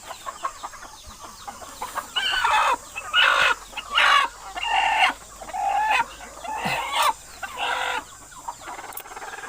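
Chickens cluck and squawk in a series of loud, close bursts separated by short pauses, with no talking.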